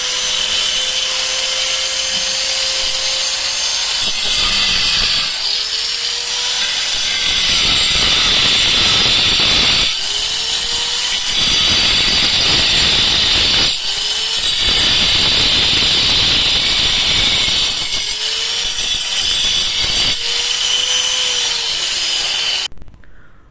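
Clay roof tiles being cut to fit along the edge of a sloped, five-corner shade roof, heard as a loud, steady abrasive grinding rasp that runs almost continuously, with short pauses and slight pitch shifts as the blade bites.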